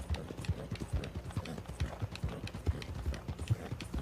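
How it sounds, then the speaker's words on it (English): Rhythmic hoofbeats of a horse galloping in the video game Red Dead Online, a steady quick clip-clop pattern at moderate volume with no talk over it. "I'm hearing the horse galloping when I'm dozing off."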